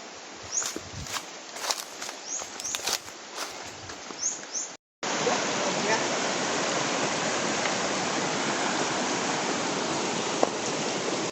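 A milky white river in Manito, Albay rushes steadily as a broad, even wash of flowing water, preceded by a few seconds of footsteps, rustling and faint birds close by.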